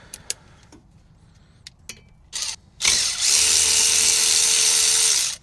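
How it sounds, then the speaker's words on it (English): A power tool with a T30 bit removes a brake bolt on a GMC Denali 1500: a few small clicks and a short burst, then a loud, steady whirring drive lasting a couple of seconds, close by. "I'm gonna use a T30. Yeah, T30 to take this bolt off."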